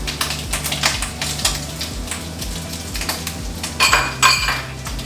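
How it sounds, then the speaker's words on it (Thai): Garlic tossed into a pan of frying bacon while making spaghetti carbonara, giving a steady sizzle under repeated clinks and scrapes of a utensil against the pan, with a louder burst of crackling near the end. "เริ่มกันที่กระเทียมครับโยนกระเทียมลงไปก่อน"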